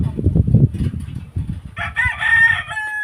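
Farmyard chickens and a rooster are fed in the morning: low clucking from the flock, then a loud rooster crow rising over it, close by.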